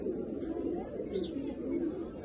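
Desi-breed pigeons coo in a low, continuous throaty murmur close by in a breeder's loft, steady throughout with faint higher sounds above.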